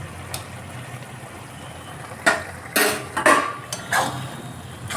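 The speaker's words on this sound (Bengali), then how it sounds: "নাড়াচাড়া করে নিয়ে" A spoon scrapes and clinks in a pan of shola kochu ghonto curry with ghee and garam masala, with several sharp metallic knocks and stirs over a quiet background.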